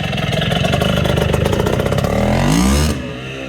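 A brand-new Bultaco Matador 350 big-bore motorcycle engine revs steadily with a throaty growl, then swells in a louder, rising rev near the end before easing off, close and alone.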